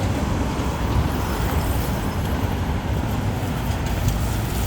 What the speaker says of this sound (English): There's a highway right here to my left side.